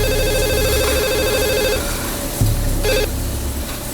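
A telephone rings in repeated electronic trills, loud and close, with a short gap between bursts and nobody speaking.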